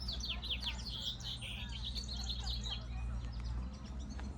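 A bird sings in a marsh outdoors, with repeated bright chirping phrases over a low steady hum, clear but moderately distant, with no talk.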